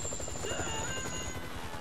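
Helicopter in GTA 5 flying nearby, a continuous rapid rotor chop with a whining engine tone, steady and moderately loud throughout the short stretch without talk.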